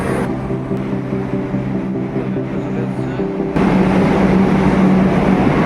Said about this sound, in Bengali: এখন এই মুহূর্তে মেট্রো চলে এসছে